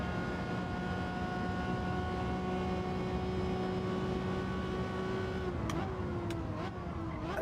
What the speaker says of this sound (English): I do know that you really need to rev this car out an awful lot.